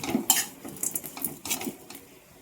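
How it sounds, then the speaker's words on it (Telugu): Metal spoon scraping and clinking against a pan while stirring a spiced restaurant-style potato fry, several quick sharp scrapes and taps in close succession, quiet and close with no talk. "ఇప్పుడు ఒకసారి కలుపుకుందాం"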